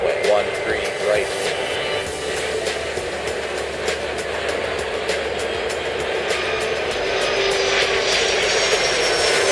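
A fixed-wing airliner in the Airport Madness air traffic control game takes off with a steady, broad jet-engine roar, rising slightly toward the end, while a controller's voice gives runway clearances over it.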